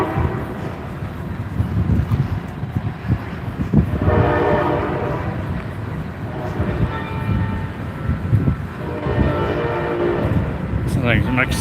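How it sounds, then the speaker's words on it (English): A train rumbles past steadily in downtown Fairbury, Nebraska, with a sustained horn blast sounding twice over wind noise, and voices talking faintly underneath. "A train should be coming through a track down the street."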